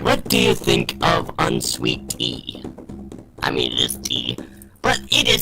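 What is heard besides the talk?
None of the usual background noises is heard.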